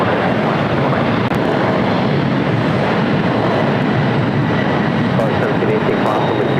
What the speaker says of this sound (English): Got that Latam Cargo 767 rolling down 25 right.